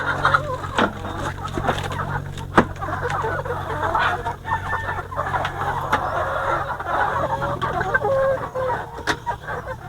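Several Dominant CZ hens cluck and chatter close by in a busy, irregular stream, with a rooster-like call and a low hum in the background.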